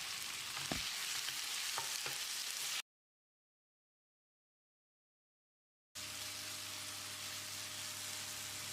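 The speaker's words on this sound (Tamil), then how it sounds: "1 டீஸ்பூன் உப்பு சேர்த்து தக்காளியை மசிகிற அளவுக்கு வதக்கிடலாம்." Tomatoes sizzle and crackle steadily in a hot pan with salt, with a few stirring clinks, broken by a stretch of silence before the frying resumes.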